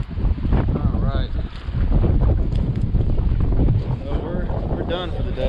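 Strong wind roars and buffets the microphone on an open fishing boat during April crappie fishing, a steady loud rumble that fills the whole stretch with no break.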